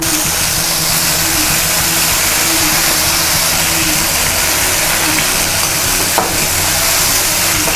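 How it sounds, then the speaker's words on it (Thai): Shrimp paste and garlic stir-fried in oil in a home kitchen sizzle steadily and evenly throughout, a continuous close frying hiss with a low background hum and one brief clack near the end, no talking. "พอเราผัดกะปิลงไปกะปิกับน้ำมันเนี่ย มันจะ อย่างเงี้ยค่ะ มันจะแยกกัน"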